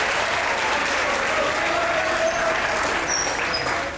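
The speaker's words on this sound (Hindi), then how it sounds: "लाहौर की खवातीन के लिए भरपूर तालियां।" Steady, loud audience applause for the women of Lahore at a televised family show, dense clapping that holds for several seconds and tapers at the end.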